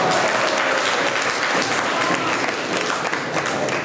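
A college audience at Arul Anandar College's Tamil literature debate bursts into loud, sustained applause, dense clapping from many hands filling the hall at close range.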